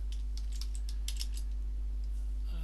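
Steady, close run of keystrokes on a computer keyboard during account setup for Zoom, a quick irregular patter of soft clicks over a low constant hum, with no talking.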